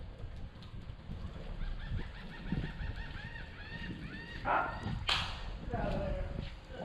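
Long-necked birds, probably geese, call near fishermen on the Dunedin Causeway on a stormy day, sounding a quick series of faint rising honks over gusty wind noise.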